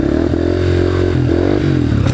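Dirt bike engine revving hard during a wheelie, a loud continuous close engine roar with pitch rising and dipping as the throttle changes.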